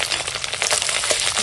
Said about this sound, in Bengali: একটু তেলের উপর দিয়ে ভেজে নেব।